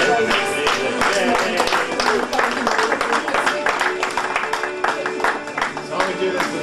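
Audience at a conference on near-death experiences while drowning claps steadily over music, a dense continuous patter of many hands at fairly loud level with voices faintly underneath.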